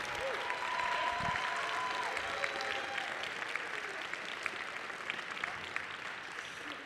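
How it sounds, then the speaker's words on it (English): Audience applause fills a hall after a high school wind ensemble concert, steady dense clapping throughout with a faint crowd murmur, fairly close and even in loudness. "Can we have one more round of applause, please, for our wind ensemble performing that piece?"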